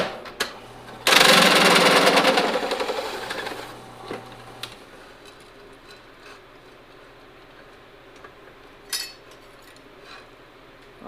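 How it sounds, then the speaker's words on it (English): A big new unibit step drill bit bores a hole in metal during quick fixes on a 1976 GMC Jimmy, giving a loud, harsh grinding whine for about three seconds that fades out, followed by a few faint clinks. "my plan is to cut this hole with this unibit, which I just bought, big giant one"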